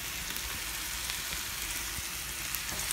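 Spiralized zucchini tossed in a pot with spatulas, set against a dense continuous frying sizzle with soft scraping and stirring ticks, steady and close throughout.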